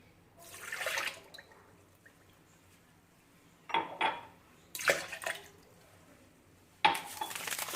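Milk is poured into a bowl for a pudding in short splashy bursts, about four separate pours with quiet gaps between them, close by and fairly soft.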